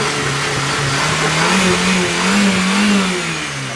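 Audi TT S-Line engine revving hard and steadily for several seconds, a loud, rising-and-falling mid-pitched roar with no pauses, heard up close in a workshop setting.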